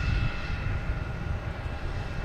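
A JetBlue Airbus A220 bound for Detroit takes off at Boston Logan. Its engines make a strong, steady roar with a thin high whine, heard alone without voices.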